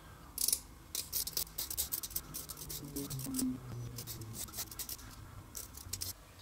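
Rapid scratchy scraping strokes repeat in quick bursts, close and fairly crisp, as a handmade wooden pencil is turned in a sharpener.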